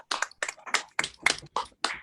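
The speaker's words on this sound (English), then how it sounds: "you deserve a big applause because you were amazing" About seven sharp, separate hand claps, close and fairly loud, spaced at an uneven, unhurried pace during an online underground artists event, with brief silence between each clap.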